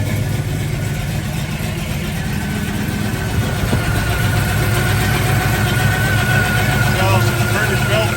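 A 1971 Chevrolet Chevelle SS custom with a freshly rebuilt motor idles loudly and steadily nearby, a deep even rumble throughout.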